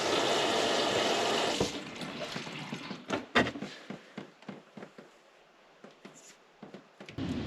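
Water from a leaky sink strainer rushes under the sink at first, then breaks into irregular splashes and drips of varying loudness, close and alone.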